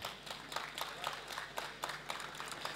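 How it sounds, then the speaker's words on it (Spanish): An audience at a science project forum applauds a jury member in a dense, moderately distant burst of many hands clapping steadily, with no voices over it. "Un aplauso para Josep."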